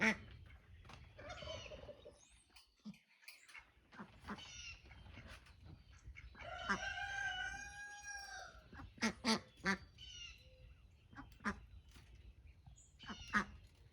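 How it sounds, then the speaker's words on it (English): Ducks call in a series of nasal quacks and gabbling outdoors, moderately close, with intermittent bursts and quiet gaps between them. "Let's go play with these ducks, Myke."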